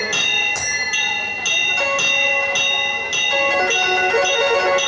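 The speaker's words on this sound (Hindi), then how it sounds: "घंटी बजने लगी महाराज" A bell rings repeatedly in a steady series of bright, ringing strikes with long shimmering overtones, loud and close, heard during a religious discourse.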